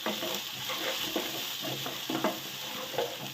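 Corn upma tempering with curry leaves being stirred in a hot pan, a steady sizzle of frying with repeated scraping strokes of the spoon, close and continuous with no talk.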